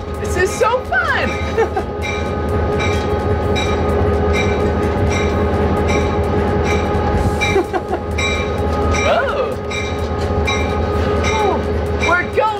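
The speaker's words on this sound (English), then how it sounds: "I love riding in trains!" A passenger train runs along the rails, with a steady loud rumble, rhythmic wheel clatter and occasional squeals, while people talk over the noise throughout.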